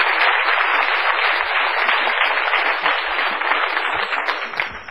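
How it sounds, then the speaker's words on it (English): An audience applauds a speaker at a talk, steady dense clapping from many hands, loud and continuous throughout with no voices on top. "Give him a great round of applause, if you would, please."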